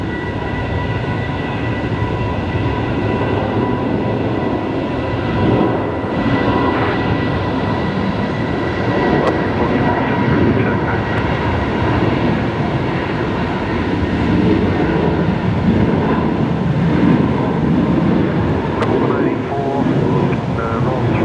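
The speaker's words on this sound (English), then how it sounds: "737-700 heading off now here on runway 19 left." A Boeing 737-700 takes off from runway 19 left at Brisbane Airport, its engines a loud, steady, broadband roar that holds throughout with no pauses.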